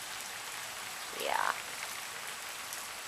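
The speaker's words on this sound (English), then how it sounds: "the rain finally showed up" Light rain falling steadily outdoors, a soft even patter throughout, with a brief voice in the middle.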